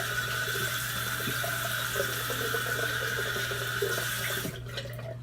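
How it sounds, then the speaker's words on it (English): A bathroom tap runs steadily for a cold-water face rinse during a lather shave, a close hiss of flowing water that cuts off abruptly near the end, with no talking. "Do myself a cold water rinse and reapply the lather there."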